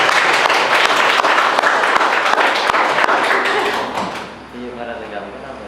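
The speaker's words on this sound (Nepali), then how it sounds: "उहाँको लागि जोरदार ताली।" A crowd at a Nepali youth event breaks into loud, sustained applause that fades out after about four seconds, leaving quiet room tone and a faint voice.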